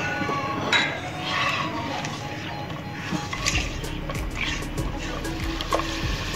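Finely chopped capsicum and carrots being stirred in a pan for chicken fried rice, making repeated clinks and scrapes of a utensil against the metal with a soft sizzle underneath, close and steady.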